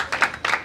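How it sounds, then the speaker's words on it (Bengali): Two quick hand claps in a row, sharp and moderately close, over a faint background hum. "বাহ বাহ, খুশি হয়ে গেলাম, হাততালি।"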